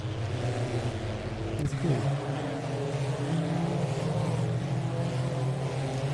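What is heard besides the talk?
Glickenhaus race car exterior engine sound at Silverstone, racing game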